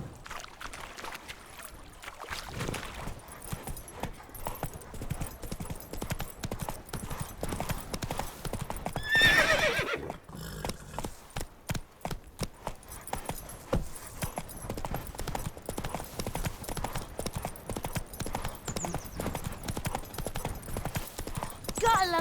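Roach, the horse in The Witcher 3: Wild Hunt Complete Edition, trots in a steady clip-clop of hooves that continues throughout at moderate loudness, with a voice heard at points and faint surrounding game ambience.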